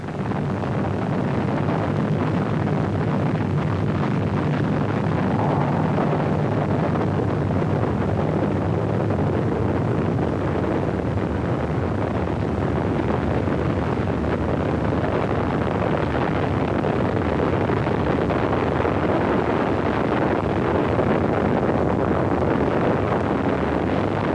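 A Saturn IB rocket lifting off with Apollo 7 gives a continuous, heavy roar with a broad, rumbling low end. It holds steady and loud from start to finish, with no voices.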